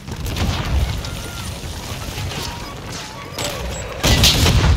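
A grenade blast in Call of Duty: Modern Warfare 2 on the Shipment map, a heavy low boom near the end that sits over constant gunfire and game noise, with players talking throughout.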